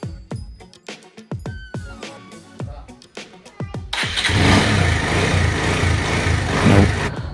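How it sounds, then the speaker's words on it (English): A Bajaj Pulsar 150 motorcycle, freshly fitted with a replacement camshaft cap, gives a series of separate cranking thumps before it fires. It settles into a loud, steady idle close by. "Then is starting vehicle for testing."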